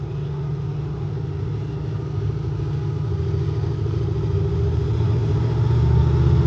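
A high-horsepower engine aimed at about 1,000 horsepower runs on a dynamometer, a steady deep rumbling drone that swells gradually louder and rougher over several seconds.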